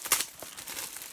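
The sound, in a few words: unwrapping a Blu-ray combo case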